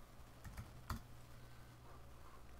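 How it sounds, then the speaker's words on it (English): Keys pressed on a Mac keyboard, including the Alt key, give a few soft, quick clicks, with one sharper tap near the middle, all quiet and alone against low background hiss. "I'm going to press Alt on my keyboard"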